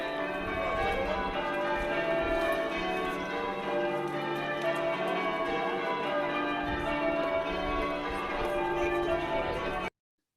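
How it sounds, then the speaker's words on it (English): Church bells ring in English change-ringing style, a dense continuous peal of overlapping bell tones sounding steadily and fairly loud throughout. "Just give you a little snatch of English change ringing."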